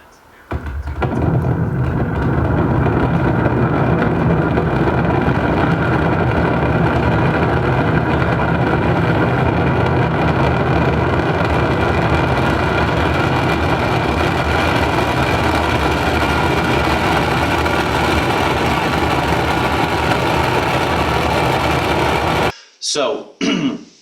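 Raptor rocket engines igniting: a loud, continuous broadband roar that rises quickly and holds for about twenty seconds before cutting off abruptly, followed by a few brief bursts.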